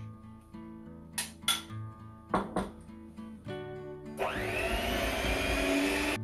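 Electric mixer beating enriched dough for a traditional Spanish coca de crema, starting with scattered clinks and knocks, then settling into a steady loud whir for the final couple of seconds.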